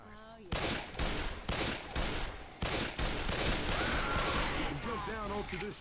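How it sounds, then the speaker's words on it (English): An auto shotgun fires in Left 4 Dead 2, a run of loud, evenly spaced heavy blasts close up, with voices talking around and between the shots. "I love the auto shotgun"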